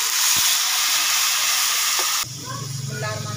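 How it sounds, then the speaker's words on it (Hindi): Spices tipped into a pan of browned onions set off a loud, steady sizzle and frying hiss that drops suddenly partway through, leaving a quieter bubbling crackle. "प्याज हमारा ब्राउन हो गया है, अपने मसाले डालने लगी हूँ।"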